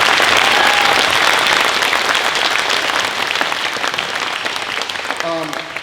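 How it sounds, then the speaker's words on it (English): Audience applause at a high school concert band's spring concert, a steady dense clapping from a crowd that holds loud throughout and eases slightly toward the end. "Let's give them a round of applause."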